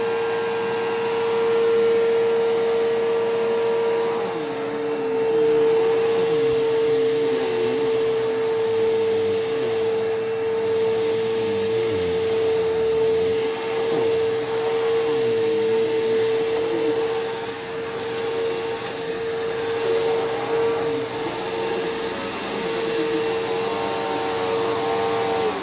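A Bissell Powerforce bagless 6579 vacuum cleaner runs steadily while cleaning a back porch, a loud, continuous motor whine with a strong sustained tone, close by and alone, shifting slightly as the cleaner moves.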